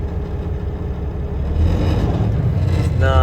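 A 2015 Peterbilt 579 day cab truck engine runs steadily at close range, not yet warmed up, a continuous low diesel drone that grows a little louder partway through.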